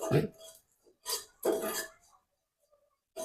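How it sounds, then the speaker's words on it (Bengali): Dried shrimp tipped into a hot wok in a home kitchen for a bottle gourd stir-fry, giving a few short clattering, sizzling bursts separated by quiet gaps. "কড়াইটা গরম হয়ে গেছে, এবার আমি চিংড়িগুলো ঢেলে দিলাম"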